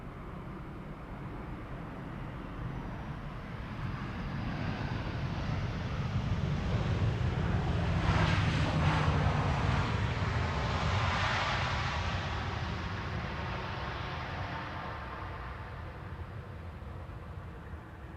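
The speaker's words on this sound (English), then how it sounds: "737-900, 43 minutes underway, PHB XP, 23 years old, first flight August 2001" Boeing 737-900 airliner flying past near Amsterdam Schiphol, a broad jet roar rising to a peak mid-way with a whooshing sweep, then slowly fading, mixed with wind rumble on the microphone; no talk.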